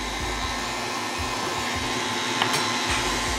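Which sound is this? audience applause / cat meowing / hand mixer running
hand mixer running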